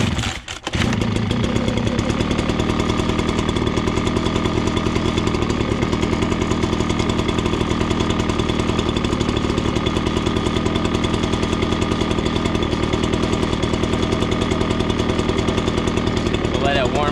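A Ryobi BP42 gas leaf blower, just taken off choke and warming up, runs with a loud, close, buzzing two-stroke drone after a brief sputter at the start, holding steady throughout.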